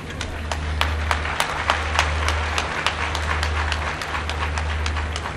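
An audience at a scholarship event gives scattered, uneven claps, individual sharp hand strikes popping irregularly over a steady low electrical hum.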